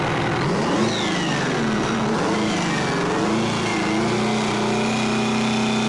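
A Detroit Diesel 8V turbocharged V8, a 12.1-liter 550-horsepower engine, revs loud and close with a rising and falling mechanical drone and steady low harmonics, holding a sustained growl near the end.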